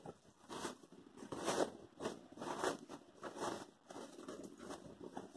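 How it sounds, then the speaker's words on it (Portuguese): A zipper being pulled open on a handmade patchwork fabric bag during sewing, heard as several short, close scratchy runs of rasping teeth in uneven bursts. "você vai acabar de abrir o zíper"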